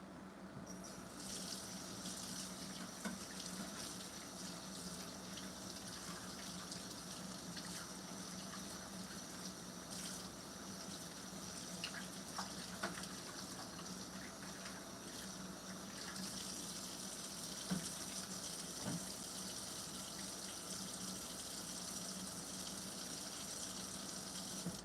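Tap water runs steadily into a container for the whole stretch, a continuous hissing gush with small splashes and clinks, as water is added while making tacos.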